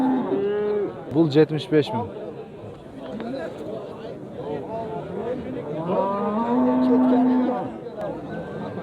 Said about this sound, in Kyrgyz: бул саан уй канча экен басы?